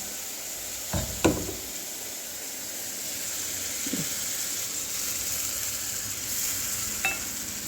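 Water poured into a pan of frying poppy seed and green chilli paste sizzles steadily for several seconds, with a few soft clinks and stirring knocks near the start and one more near the end, no talking.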